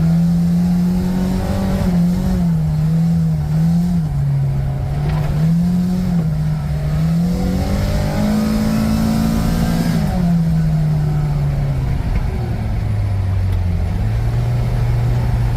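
A Kawasaki Ridge side-by-side driving in high-range four-wheel drive with limited slip makes a loud, steady engine drone close by, rising and falling with throttle changes throughout.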